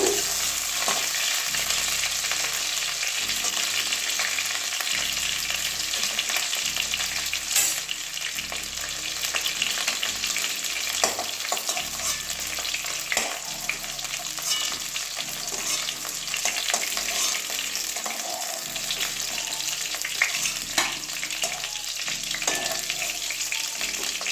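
Cauliflower and potato fry in oil for a katla fish curry, a constant crackling sizzle with recurring spatula scrapes and stirring knocks over a low background hum.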